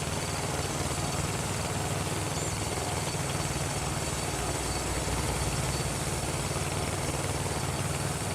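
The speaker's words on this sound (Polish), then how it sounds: "mam nadzieję, że będzie traktor słychać na, na nagraniu" A tractor engine runs in a steady drone while mowing a newly bought meadow, a continuous mid-distance hum with no pauses or voices.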